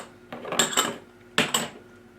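Lard being worked into flour for fry bread dough, two short clusters of scraping clinks from a utensil against a bowl, close and moderately loud, with quiet between them and no talking.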